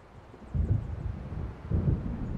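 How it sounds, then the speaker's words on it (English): Low rumbles of thunder from an approaching storm in the video game Alan Wake, two deep distant rolls over a windy background. "It seems there's a storm coming."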